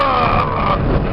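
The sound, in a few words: car engine accelerating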